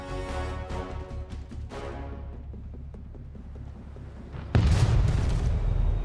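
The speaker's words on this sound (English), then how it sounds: "Explosion in the hospital." In Grand Theft Auto V, a heavy explosion goes off inside a hospital, a sudden deep boom landing after several seconds of rumbling game noise and scattered sharp pops.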